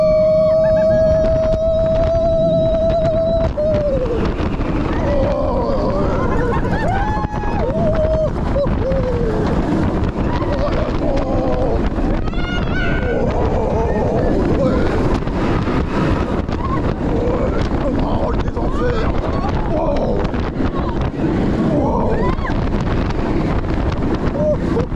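Roller coaster first drop at Busch Gardens Williamsburg, a loud sustained roar of wind and rushing track noise with a falling whistle-like tone early on, riders' voices shouting over it throughout.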